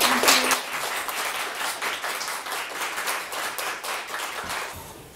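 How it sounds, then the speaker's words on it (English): An audience at a tech talk meetup gives a steady round of applause, many hands clapping together at an even level for about five seconds before it begins to taper off. "another round of applause"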